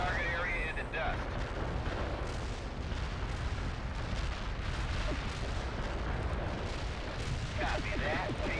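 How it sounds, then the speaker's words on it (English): An artillery barrage pounds a target area in World in Conflict, a steady, heavy wash of rumbling explosions and distant gunfire that holds at an even level throughout, with no pauses. "Artillery barrage turned the target area into dust."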